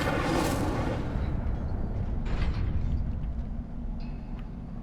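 The Incendio fire spell is cast in the Hogwarts Legacy video game: a loud whooshing fiery burst, then a second rushing blast about two seconds later, over a constant dense game-sound bed.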